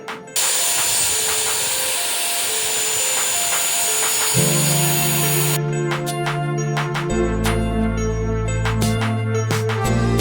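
A wooden framing board for an enclosed porch being cut with a loud power saw, a steady motor whine that drops in pitch as the blade bites into the wood, with no talk.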